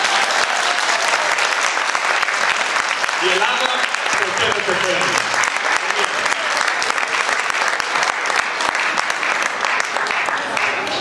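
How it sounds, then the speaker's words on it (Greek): A school audience at a Greek Independence Day celebration applauds the children with dense, steady clapping throughout, loud and sustained, while a voice speaks over it midway. "Ένα μεγάλο ευχαριστώ και συγχαρητήρια και ένα χειροκρότημα για τα παιδιά μας"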